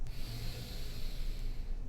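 A deep breath in during a yoga flow for back pain relief: a long, close, airy inhalation with soft nasal hiss, steady for about two seconds, with no talking.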